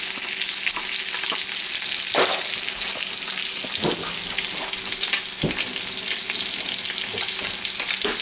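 A sauce cooks loudly in a pan with a steady, close sizzle and occasional stirring scrapes and clinks as lemon juice, onion powder, salt and pepper are added, without talk.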